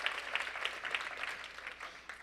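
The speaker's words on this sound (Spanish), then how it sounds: "Dale un aplauso al Señor." Faint applause from a church congregation during a sermon, steady rhythmic clapping heard from a distance throughout.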